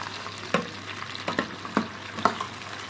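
Squid rings frying in very hot oil for calamares, a steady close sizzle with a few sharp pops and clicks of utensils, no talking.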